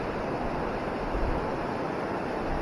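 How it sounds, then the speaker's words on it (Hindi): A full mountain stream at Harwan, Srinagar in Kashmir rushes steadily, a dense, continuous broadband roar of flowing water close by, with no talking. "तो काफ़ी पानी है स्ट्रीम में, जैसा कि आप देख रहे हो पूरा स्ट्रीम भरा हुआ है।"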